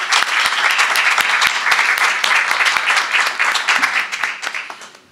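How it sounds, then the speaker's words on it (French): An audience applauds speaker Asma Lamrabet at a conference, dense sustained clapping from many hands that fades out near the end. "Je vous demande de bien applaudir Madame Asma Al-Mrabat."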